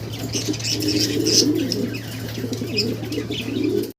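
Several pairs of local Bengali golla pigeons coo together in a continuous, close chorus, with a few chirps or wing sounds over a steady low hum and no voices.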